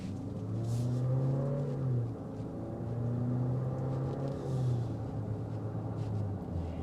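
The turbocharged VC engine of a 2025 Nissan Murano SV accelerating, heard from inside the cabin as a smooth rising drone that climbs in pitch, eases off and rises again through gear changes, with no talking.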